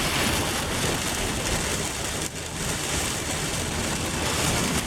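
Heavy rain pours steadily on a vehicle driving toward a ranch near Globe, a dense, loud hiss filling the whole stretch with no talk.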